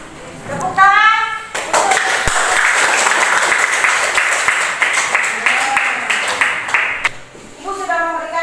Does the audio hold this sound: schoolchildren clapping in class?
yes